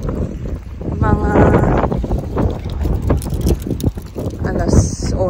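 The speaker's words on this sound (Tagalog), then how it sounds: "ang lamig ng hangin" Cold, gusty wind at a frozen Clear Lake in Canada rumbles and buffets the microphone throughout, with a person talking over the steady low roar.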